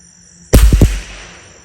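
A single sharp crack from a Marlin Model 25 rimfire rifle at a shooting range, close and loud, with a quick short ring after the report.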